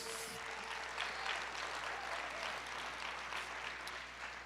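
A church congregation applauds during a sermon, a steady, dense wash of clapping that fills the room from start to finish with no clear voices above it.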